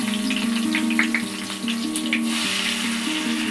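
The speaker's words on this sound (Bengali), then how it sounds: "এবার আমি আলুগুলোকে ভেজে নেব" Potatoes frying in hot oil for a vegetarian dum biryani, a steady close sizzle and crackle with bright spitting pops throughout and no one speaking.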